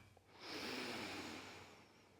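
A slow, deep inhale through the nose during a yoga breathing exercise, a soft rushing breath that swells and holds steady for about two seconds, close and quiet with no talking.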